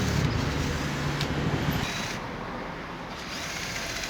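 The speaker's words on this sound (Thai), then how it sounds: "เจาะรูให้ตรงนะครับ เอาดอกเล็กนำก่อนนะครับ" An electric drill bores a hole with a small pilot bit during a motorcycle handlebar fitting on a CB150, a steady close whirring grind that starts at full strength and eases slightly after the first couple of seconds.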